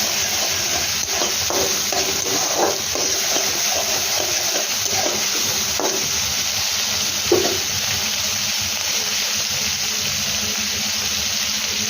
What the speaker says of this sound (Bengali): মটরশুঁটির সাথে এটাকে ভালো করে কষাবো